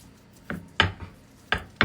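Raw meat for cat food being mixed with inulin fiber, heard as a few sharp, wet knocks and clacks of a utensil against a bowl, spaced irregularly and close up.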